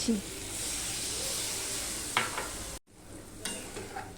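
A frying magur catfish curry with broccoli hisses loudly in a wok as water goes in, a continuous close sizzle that briefly cuts out, then resumes more softly with a few stirring scrapes.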